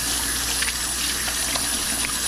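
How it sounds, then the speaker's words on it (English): Tap water runs steadily into a kitchen sink as hands are washed, a loud, even rushing close by with faint splashes. "Wash my hands again so I could"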